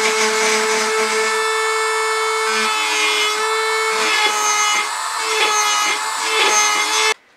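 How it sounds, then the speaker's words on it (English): Dremel-type rotary texturing tool grinding away excess wood from the foot of a turned wooden bowl, a steady close high-pitched whine with scratchy rasping bursts as the bit sweeps in circular passes, then cutting off abruptly at the end. "we're just going to brace ourselves with a thumb and bring it to us as we remove some of the excess wood"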